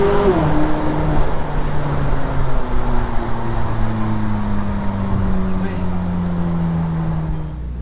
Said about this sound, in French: J'ai à peine effleuré l'accélérateur, tu sens que ça a envie d'ouvrir tout de suite.